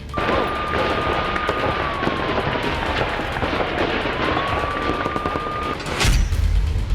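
Rapid bursts of gunfire crackle continuously under a wavering siren-like tone, ending in a loud heavy blast.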